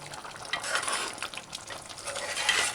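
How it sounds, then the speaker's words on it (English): Curried goat meat and potato gravy being stirred gently in a pot on the stove, giving a soft wet scraping and bubbling sizzle that runs steadily at moderate loudness with no talk over it. "And stir it gently."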